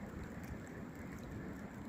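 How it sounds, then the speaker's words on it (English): Light rain falls steadily at a wooded stone mill ruin, a soft, even hiss with no distinct drops standing out, faint and continuous throughout. "It's starting to rain a little bit."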